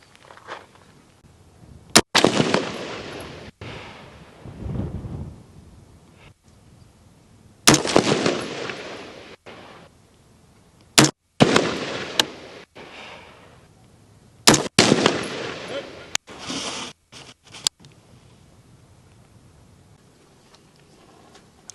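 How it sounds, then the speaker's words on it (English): Four rifle shots fired at a target, each a sharp loud crack with a short decaying tail, spaced several seconds apart with a final cluster of clicks and quiet pauses between. "we just shot 4 rounds"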